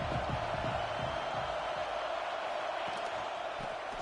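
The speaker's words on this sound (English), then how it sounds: "This crowd ready to make its presence known." A football stadium crowd at an Ole Miss game gives off a steady, dense roar that holds at an even loudness throughout.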